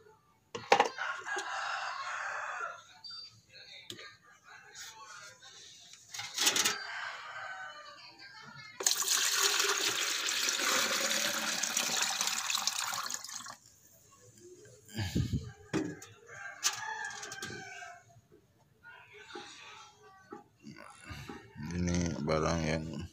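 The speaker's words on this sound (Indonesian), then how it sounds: "kita mulai siram ya, siram." Homemade liquid organic fertilizer is poured and splashed over plants during outdoor watering, a steady broadband gush lasting several seconds, with roosters crowing and clucking nearby and a person talking around it.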